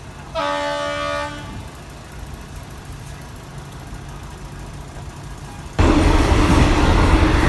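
An ordinary passenger train, Thonburi to Prachuap Khiri Khan, sounds its horn in a steady harmonic blast at Salaya station, then gives way to low rumbling rail noise that swells abruptly louder as the train departs.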